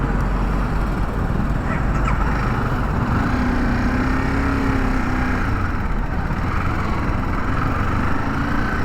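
A Royal Enfield Bullet 350 motorcycle idles steadily just after being started, a low continuous engine drone heard close and unbroken with some background noise.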